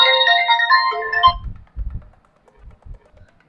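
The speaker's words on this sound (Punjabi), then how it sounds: "ਇਹ ਕਿਹਦਾ ਫੋਨ ਆ" A melodic electronic phone ringtone plays briefly and loudly, then cuts off, followed by a few soft low thumps and rustles.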